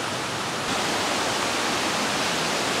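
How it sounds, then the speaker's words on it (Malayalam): A forest stream near Gavi rushes steadily as a river to be crossed on foot, a loud, close, unbroken wash of flowing water that swells slightly after the first moment, with no voices. "ഇതൊരു പുഴയെന്ന് പറയാം."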